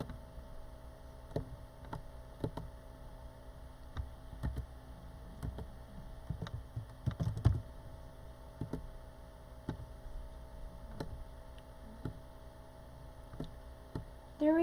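Scattered keystrokes on a computer keyboard while building a project in Scratch, light irregular clicks over a faint steady hum, with brief pauses between taps.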